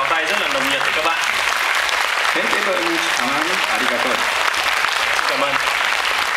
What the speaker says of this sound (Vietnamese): すでにとっても素晴らしい拍手をいただきました。